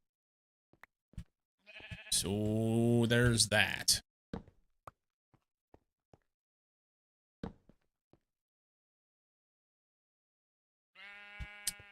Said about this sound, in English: I do have a noisy fucking sheep right outside my door.